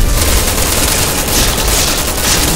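Gunfire roars in Resident Evil 6, a loud, continuous fusillade of automatic shots that fills the whole moment with dense rapid reports.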